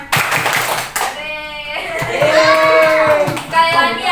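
Children clap their hands along to a cheerful sing-along at a school performance, the claps mixed with young voices singing close by, a steady stream of patting beneath the melody.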